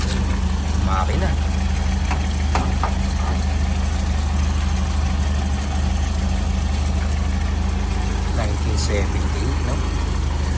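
A car engine idles steadily with a low, constant rumble throughout, as voices chat intermittently nearby.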